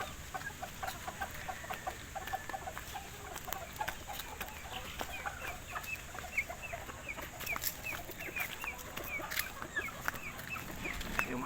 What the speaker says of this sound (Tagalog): Kinuha ko na lahat ng mga manok ko.